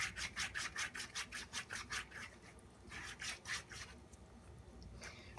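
A pumice stone scrubs across the skin of a foot in quick, rhythmic rasping strokes, faint and close, with a short pause partway before the rubbing resumes.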